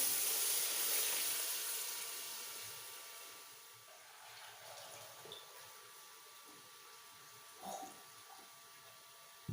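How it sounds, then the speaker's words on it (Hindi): Water poured into sizzling masala in a pan while making green choliya pulao, a loud hissing sizzle that starts strong and slowly fades to a quieter bubbling simmer, with a few small clatters near the end. "अभी पानी डाल देते हैं।"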